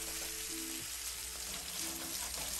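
Monkfish dipped in egg batter frying in hot oil and butter, a continuous dense sizzle with a faint tonal hum in the background, no talking.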